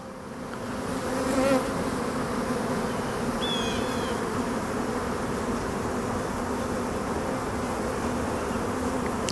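Honeybees hum in a steady, dense drone from an open beehive during an inspection, close and continuous, with a brief higher whine of a single passing bee.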